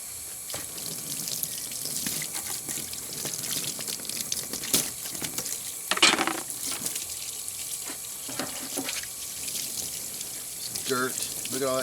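Running water rinses a dirty Sega/Gremlin Carnival arcade circuit board, a steady close splashing and trickling stream with occasional clatters as the board is handled.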